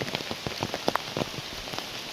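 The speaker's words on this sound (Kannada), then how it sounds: "ಆದರೆ ಮಳೆ ಬರ್ತೈತೆ." Rain falls during a monsoon trip to Yana, with steady hiss and scattered close drops pattering and tapping on a nearby surface, faint and continuous with no voices.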